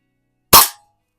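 A single sharp crack from an antique 125-year-old Eisenwerke Gem No. 13 air rifle firing a wadcutter pellet at a can, loud and close, with a short decaying tail and no talk.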